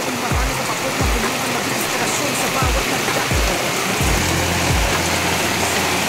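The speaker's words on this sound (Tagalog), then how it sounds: "Lakas ng ulan." Heavy rain drums continuously at a market in Barangay Hundagwa, Lopez, Quezon, a loud, dense wash with several low thumps scattered through it.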